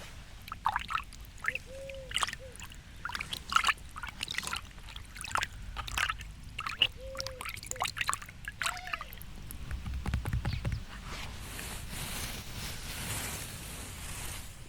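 Water is poured into a garden bird bath, trickling and splashing in short bursts, with faint bird chirps in the background and a steadier wash of pouring near the end.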